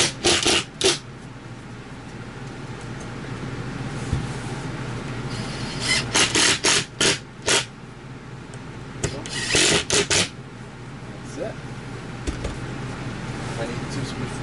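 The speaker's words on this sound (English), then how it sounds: "I'm going to finish screwing the rest of these screws in here" Screws being driven into a bracket during a bed lift strut install in a Coleman 202RD travel trailer, heard as several short bursts of rasping, whirring driver noise, some in quick clusters, with quiet pauses between them.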